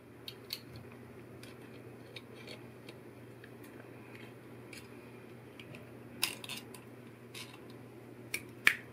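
Wire about 25 inches long is snipped for a carnival feather collar: faint, close, sparse metallic clicks and snips against a quiet hum, with a couple of sharper cuts near the end.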